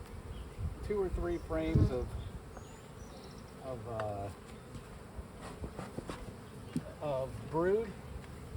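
Honeybees buzzing steadily around an open hive during an inspection while a split is being made, a continuous moderate hum with someone talking over it intermittently.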